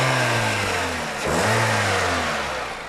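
A car with a 1.8 liter engine accelerates nearby, its engine note rising steadily, dipping briefly as a gear changes, then climbing again before easing off, with no talk over it.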